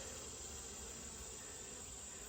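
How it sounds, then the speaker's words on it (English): A dense, steady buzz from a crowd of honeybees in an open hive during an early-morning inspection, continuous and close, with no talking. "The bees there's just so many bees in here right now."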